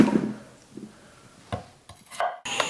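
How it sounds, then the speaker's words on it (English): A knife chops food for potato salad on a cutting board, giving a few irregular close knocks and short scraping strokes, with no voices. "All right, we're going to get the chopping on here."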